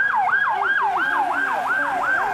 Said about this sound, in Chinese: 救护车来回穿梭